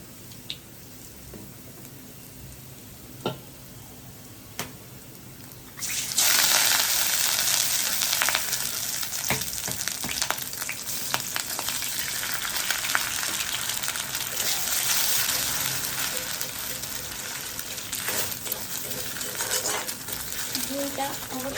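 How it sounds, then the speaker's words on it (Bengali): An egg hits hot oil in a pan, and a loud, steady sizzle starts abruptly and keeps going, with occasional clicks and scrapes from stirring; quieter kitchen sounds come before it. "ডিমটা অবশ্যই ভালো করে ভাজতে হবে"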